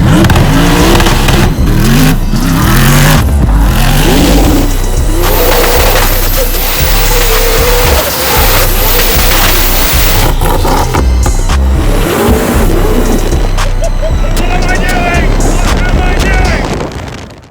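A 1750 bhp desert hyper buggy revs and accelerates hard in the dark, its loud, roaring engine surging repeatedly with heavy wind buffeting against the microphone, while voices speak over it.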